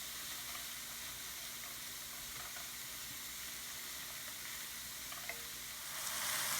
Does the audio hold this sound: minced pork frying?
yes